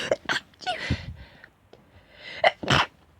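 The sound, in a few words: sneeze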